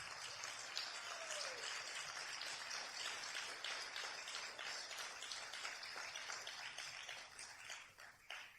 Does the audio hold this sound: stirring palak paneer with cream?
no